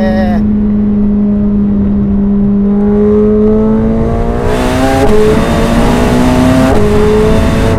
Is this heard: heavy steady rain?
no